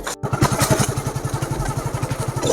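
A small automatic motorbike idles and putters close by, its steady low firing pulses continuous throughout after a brief cutout at the start.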